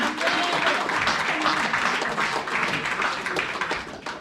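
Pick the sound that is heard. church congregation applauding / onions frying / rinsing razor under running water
church congregation applauding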